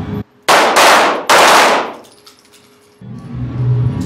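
Two loud handgun shots are fired from a high ready position during a shooting class, a brief gap apart, each a sharp blast with a long ringing decay, followed by quieter handling noise.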